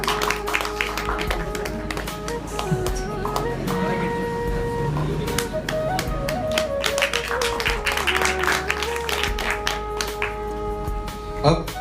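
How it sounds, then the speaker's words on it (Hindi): Applause at a prize distribution ceremony: a crowd claps steadily for the whole stretch, dense and fairly loud, mixed with background talk and a hum from the hall's sound system. "इनके लिए भी जोरदार ताली।"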